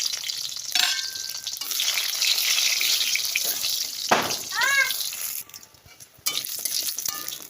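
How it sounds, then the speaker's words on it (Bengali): Lentil dumplings sizzle and crackle as they fry in hot oil in a wok, with a few clinks and scrapes from a utensil in the pan and a brief running-water sound partway through. "এবার আমি তেল দিয়ে ডালের বড়িটা ভেজে নিই"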